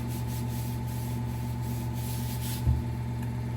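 A motorcycle scrape fender being sanded by hand with sandpaper, a steady continuous rubbing rasp over a constant background hum, with one brief louder scuff near the end.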